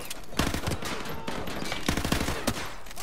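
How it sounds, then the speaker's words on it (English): Heavy gunfire in a Call of Duty Modern Warfare 2 firefight at a school: loud bursts of automatic rifle fire cracking in clusters, with brief gaps between volleys. "We're taking heavy fire from the school."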